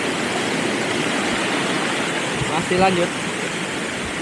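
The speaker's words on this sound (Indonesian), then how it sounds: "Sekarang kita di atas Curug Gleweran." Curug Gleweran waterfall in Bogor roars steadily as a dense, continuous rush of water throughout, with a short spoken phrase briefly heard over the torrent.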